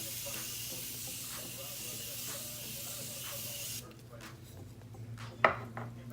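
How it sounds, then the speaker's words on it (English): Urban Decay setting spray misted onto a face from an aerosol can, heard as a steady broad hiss that cuts off, followed by a short sharp puff near the end. "I'm going to set my face before I apply my highlight"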